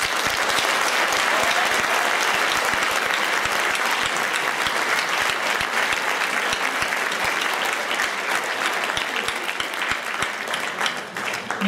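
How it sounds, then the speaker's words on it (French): Audience at a secondary school gala applauding the school staff, a dense sustained burst of clapping from a large crowd lasting many seconds, filling the room with steady sharp claps. "Et on pourrait les applaudir, s'il vous plaît."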